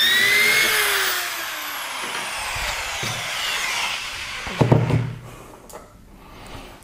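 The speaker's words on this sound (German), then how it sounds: "Und ihr bohrt das zweite Loch." A drill bores a second hole in wood through a System 32 jig for hinge mounting plates. A whining bit sound sweeps down and fades, followed by clunks and knocks as the tool and jig are handled nearby.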